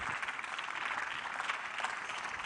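A church career fair audience applauding a panelist, a steady wash of many hands clapping at moderate distance, sustained and even throughout without pause.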